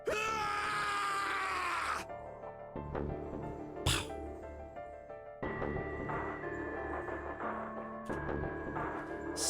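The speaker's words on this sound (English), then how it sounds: "His scream echoed through the incineration chamber, full of rage and despair." Screaming from the video game Zero Escape: 999, a cry of rage and despair in an incineration chamber. Loud, strained vocal wails carry over game music and sound effects, with abrupt shifts and a sharp burst midway.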